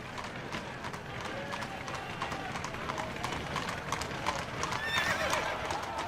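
Horses pulling a horse-drawn hearse clop along steadily on a hard street, with repeated hoof beats and a whinny near the end, set under low background sound.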